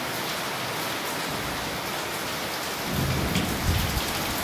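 Rain pours down in a continuous broadband hiss, with a low rumble of thunder rising near the end and no speech.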